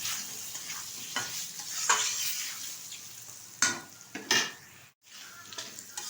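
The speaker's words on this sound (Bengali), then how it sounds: "দিয়ে দিচ্ছি টুকরো করে রাখা আলু। আলুটা কিন্তু ভালোভাবে ভেজে নেব।" Potato pieces fry in a hot pan for a fish curry, a steady oily sizzle broken by repeated scraping stirs and clinks of a utensil against the pan, close and continuous.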